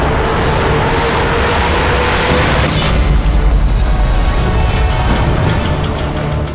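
In a video game kill cam, a bullet strikes a vehicle with a heavy booming impact partway through, set against a sustained loud roar of engine-like noise before and after.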